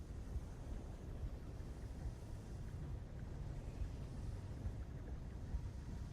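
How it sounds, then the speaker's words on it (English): An exhaust fan running in a gaming room, a steady low rumbling whoosh with constant broadband noise, faint and unchanging throughout. "And I'll turn the exhaust fan because it's getting hot in here"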